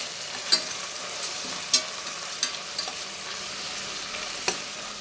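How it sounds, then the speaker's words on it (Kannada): Onion, garlic and green chilli fry in a pan with a steady soft sizzle, broken by about five sharp scraping clicks of stirring spaced through the clip. "ಇವಾಗ ಈರುಳ್ಳಿ, ಬೆಳ್ಳುಳ್ಳಿ, ಮೆಣಸಿನ್ಕಾಯಿ ಎಲ್ಲ ಹಾಕ್ತಾಯಿದ್ದೀನಿ"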